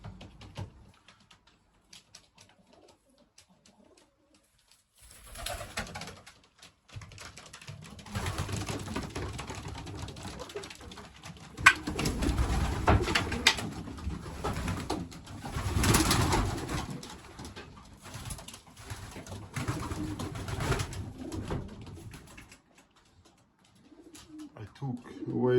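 Pigeons cooing inside a loft, soft repeated coos and rustling that swell in the middle and fade again, close by and moderately loud, with no talking over them.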